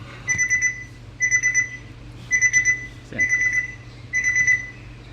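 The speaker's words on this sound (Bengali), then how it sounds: "এই যে দেখেন 10টা 13 বাজে ও কিন্তু অ্যালার্ম শুরু করে দিয়েছে।" A Hikvision DVR alarm beeps in five evenly spaced bursts of rapid tones, fairly quiet, with no talking.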